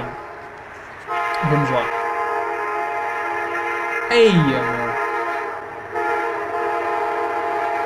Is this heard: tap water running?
no